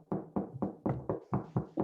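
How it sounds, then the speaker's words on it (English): Audience members at a conference session knock on tables as applause, a run of repeated dull knocks in a steady rhythm of roughly eight beats, moderately close, with no talk. "Let's all thank Elina for her talk with a round of knocks"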